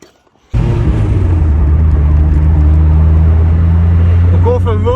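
A Ford Sierra Cosworth starts to drive off after a silent start, its engine growling low and steady with a droning rumble that fills the cabin, while someone talks over it.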